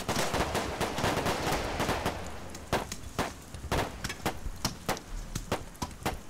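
Gunfire in the Arma 3 video game during a night operation, rapid bursts of sharp close shots, then a run of separate loud cracks fired in an uneven rhythm.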